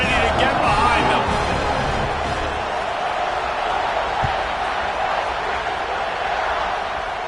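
Stadium crowd in the College Football 26 video game, a constant dense roar of cheering at kickoff, steady and full throughout without clear talk on top.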